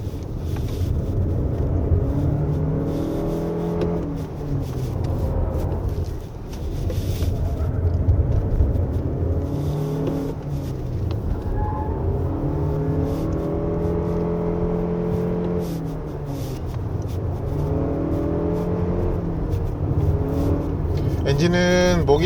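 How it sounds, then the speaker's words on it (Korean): The engine of a 2023 Lexus RX350h hybrid straining at full throttle on a winding road, heard from inside, its pitch climbing and dropping through repeated surges, with someone talking over it and some wind noise. "엔진은 목이 터져라 네 계속 소리를 내죠."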